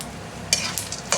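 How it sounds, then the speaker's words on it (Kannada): Dry fruits fry in hot ghee for laddu, a soft steady sizzle broken by a few louder scraping stirs of a spoon in the pan, close and with no talking. "ಫ್ರೈ ಮಾಡಿ"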